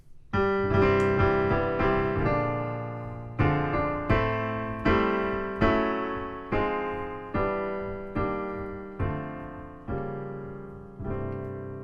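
A piano plays a short jazzy intro of rolled chords, each struck and left to decay, at a relaxed steady pace.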